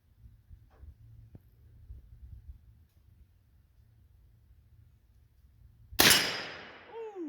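A single sharp, loud gunshot from a Tippmann Armory Rolling Block rifle in .357 Magnum fires on an outdoor range after a stretch of quiet low hum, and its blast trails off into echo.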